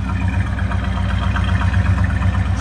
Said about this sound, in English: you can hear that burbly dual exhaust with chrome tips